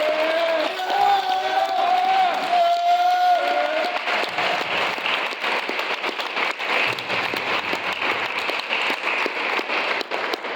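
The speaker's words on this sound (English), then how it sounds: "Let's have a great big round of applause for our amazing staff" Applause for staff at a graduation, starting with a brief stretch of voices before dense clapping takes over and runs on steadily, fairly distant in a large crowd.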